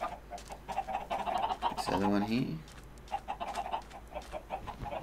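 Chickens clucking in the video game Minecraft, a series of short repeated clucks running through the clip, with a person talking briefly in the middle.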